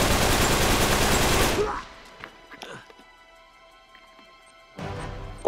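Uncharted 3: Drake's Deception Remastered on PS5 erupts in a dense burst of rapid gunfire at an enemy, which cuts off abruptly into quiet with scattered small impacts before a second volley starts at the end.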